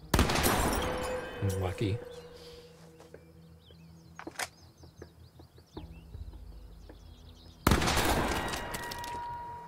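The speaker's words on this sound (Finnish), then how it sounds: "me ammutaan niitä mäsäks täällä ja todistetaan meidän niinku paremmuus tässä ammuskelussa" Gunshots blasting watermelons in the video game The Quarry, a few sharp loud shots and bursts with game effects and someone talking over them.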